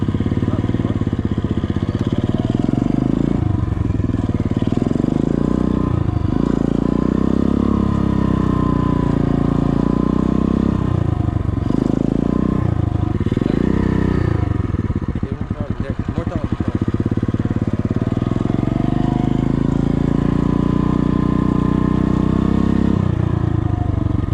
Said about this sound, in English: now you're gonna slowly give it throttle as well. Slowly start letting go of the clutch. Give it some more throttle.